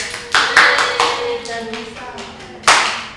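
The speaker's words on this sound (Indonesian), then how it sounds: "Tepuk tangan untuk Tani-san." A small group claps in a few short, scattered bursts, close and fairly loud, with a final burst near the end.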